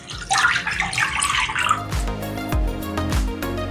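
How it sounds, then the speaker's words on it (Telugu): Water poured from a cup into a cooking pan while making palamunjalu, a sweet, giving a close, steady splashing pour that thins into lighter trickles and drips toward the end. "2 కప్పులు వాటర్ పోస్తున్నాను."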